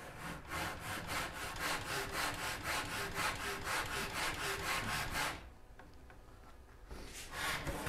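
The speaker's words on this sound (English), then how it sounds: "And this is my miter saw, Chance." A miter saw cutting wood moulding in fast, even back-and-forth strokes close by. The rasping stops for about a second and a half, then resumes briefly.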